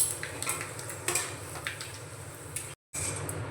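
Fennel seeds, black cumin and a half spoon of asafoetida sizzle in hot mustard oil for a vegetarian lentil-cake curry, a steady close frying hiss with light utensil clinks and a brief drop to silence near the end.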